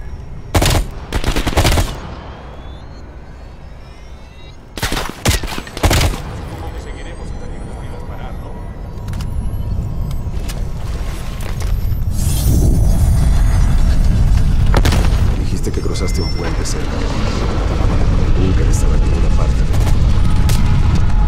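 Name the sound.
gunfire in video game Call of Duty Black Ops Cold War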